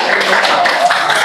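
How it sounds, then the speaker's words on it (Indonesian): Classroom of students clapping for a student group, brief brisk burst of many hands clapping close by, loud and continuous. "tepuk tangan buat kelompok Radit"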